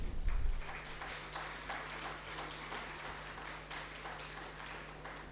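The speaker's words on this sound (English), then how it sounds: "A round of applause for them." Applause from the audience at a medical conference hall, faint and distant scattered clapping that continues steadily throughout, with a low steady hum underneath.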